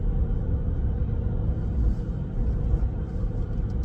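Low, steady tire road noise rumbles inside a 2023 Toyota Corolla SE cabin while driving, a continuous muffled drone with no voices or other prominent sounds over it.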